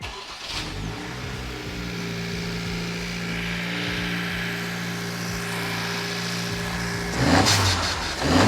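A 2023 Acura Integra A-Spec on a dyno, running on an E85 flex fuel kit, its engine droning steadily and loudly up close, then rising in a sharper rev burst near the end.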